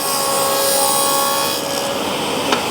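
Table saw cutting a dado through timber in a workshop, a steady close whining rasp of blade through wood with a dust extractor running, continuous and alone.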